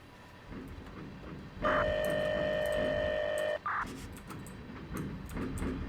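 Freight train cars being shoved in the Run 8 train simulator game, on a CSX UPS intermodal run to Orlando: a steady rumble with a loud tonal hum or horn-like drone held for about two seconds, then a brief second burst.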